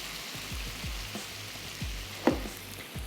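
Chicken tikka cooking in a pan over a lowered flame, a faint steady sizzle with soft low thumps and one sharp clink of utensil on the pan.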